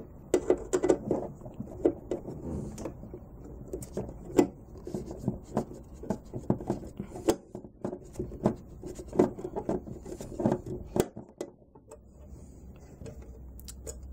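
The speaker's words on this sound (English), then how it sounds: "get a screwdriver in and take away those metal covers" A screwdriver pries metal covers off the back of a Korg Triton LE keyboard: scattered close clicks, taps and scraping handling noises at an uneven pace, with no speech.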